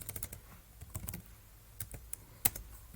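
Fingers type Go code on a computer keyboard, producing quick clusters of close key clacks followed by a pause and a few scattered, louder final taps.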